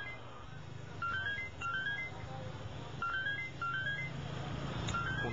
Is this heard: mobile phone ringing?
yes